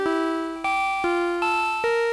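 Synthesized square-wave tones from a HEX cor synthesizer, a sequence of five sustained buzzy notes, each changing pitch with a sharp attack, played cleanly with no voices.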